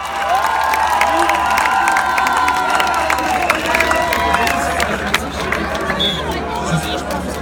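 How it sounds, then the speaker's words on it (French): An outdoor crowd at the 2017 Montpellier Gay Pride rally cheers and applauds steadily, with shouts and whistles rising over dense clapping, loud and close, while voices call out throughout. "On peut les applaudir parce que franchement, bravo l'Allemagne."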